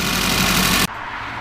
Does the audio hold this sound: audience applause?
no